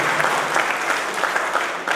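A crowd at a rural mandal development-works event applauds to thank legislator Bhupathi Reddy, a loud, dense and even burst of clapping sustained throughout.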